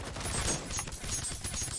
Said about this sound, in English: we got some gunfire happening